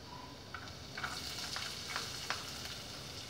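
Chopped onion sizzles and crackles in a hot pan for carne de sol stroganoff, with a continuous frying hiss and a few sharper pops as it is stirred, without any talking.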